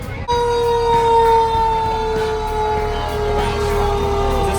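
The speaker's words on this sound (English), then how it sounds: "Our ambulances are very loud." Ambulance siren at a 4th of July parade, a loud continuous tone that starts abruptly nearby and holds steady, with faint crowd noise underneath.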